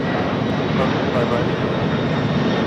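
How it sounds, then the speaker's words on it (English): A Kalitta Air Boeing 747-400 freighter takes off at LAX bound for Anchorage, giving a loud, steady broadband engine roar that holds unbroken throughout, with faint voices in the background. "Coletta Air 860 taking off to Anchorage"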